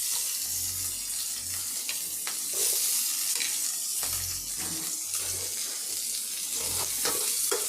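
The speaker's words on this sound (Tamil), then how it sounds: "நம்ம இப்போ வந்து பெரட்டெல்லாம் எடுக்கிறதுனால இந்த வெங்காயம் குடமிளகா எல்லாமே நல்லா வதங்கணுங்க." Onion and capsicum sauté in a pan with ginger-garlic paste and curry leaves, a steady close sizzle under repeated scraping and stirring strokes of a spoon against the pan, no talk.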